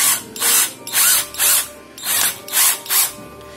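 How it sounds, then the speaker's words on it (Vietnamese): A cordless drill fitted with a step drill bit runs in seven short, loud bursts of whirring, evenly spaced with brief pauses between each trigger pull, close by and with no talking. "Cái mũi khoan tháp thì đầu của nó giống cái đầu đây, các bạn có thể lắp được vào tất cả các loại máy khoan luôn."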